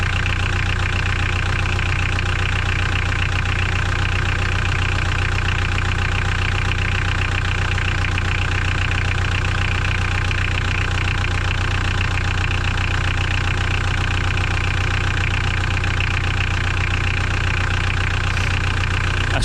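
A Mitsubishi L200 K74 diesel engine idles after a fuel filter change, a loud, close, steady low rumble with a constant rhythmic knock that continues unchanged throughout.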